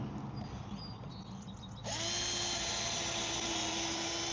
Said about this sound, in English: Let's pre-drill these holes.